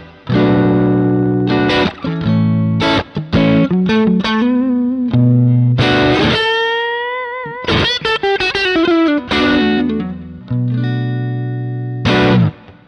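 An electric guitar played through a Fragment Booster boost pedal gives a loud, driven tone, with strummed chords and single-note lead lines including string bends, all played continuously without talking.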